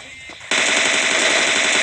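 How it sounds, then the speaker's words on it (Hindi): Sustained rapid automatic gunfire from an enemy in a shooter video game, a dense loud burst that starts abruptly and continues without pause. "अब सामने की तरफ से एक बंदा फायरिंग करता है भाई"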